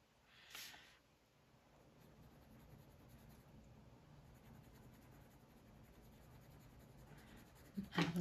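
Faint, steady scratching of watercolor pencils coloring on thick bullet-journal paper, close up in a quiet room, with a slightly louder stroke near the start and a brief tap near the end.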